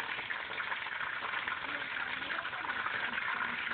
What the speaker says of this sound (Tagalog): Ayan, continue lang tayo sa pagligo ng mantika mga idol.